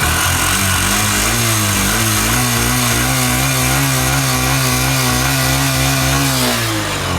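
A Honda SP 125 motorcycle started and left idling, its single-cylinder engine putting out a steady, close, rather loud chugging drone with a faint rattly edge, holding an even beat throughout before easing off slightly at the very end.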